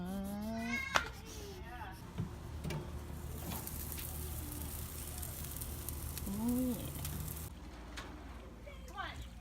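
A cat meows several times, short rising and falling cries spread across the clip, heard close amid a hissy household background with people talking softly.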